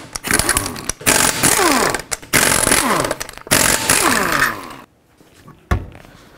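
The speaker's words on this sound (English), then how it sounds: "So with a 19 millimeter socket, take all five of your lug bolts off and then remove the wheel." Impact wrench with a 19 mm socket spinning lug bolts off a Volvo V70 wheel, four loud close bursts of rattling hammering with falling pitch sweeps, separated by short gaps, then quiet and a single knock.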